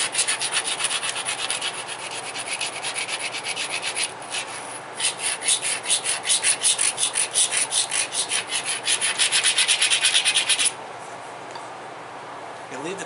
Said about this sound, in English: So even though it's ground, gonna grind it again.